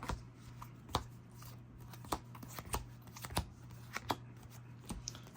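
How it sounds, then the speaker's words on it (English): A deck of trading cards being pile shuffled, soft close slaps and taps as cards are dealt into piles, irregular quiet clicks over a faint hum. "First up, we got a pile shuffle."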